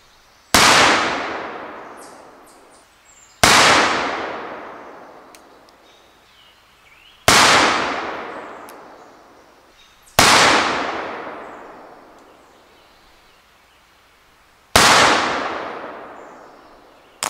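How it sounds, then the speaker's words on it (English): Five loud, sharp pistol shots ring out one at a time at a 15-yard target in a postal match, each crack followed by a long fading echo, with pauses of a few seconds between them. "So let's take our first 5 shots"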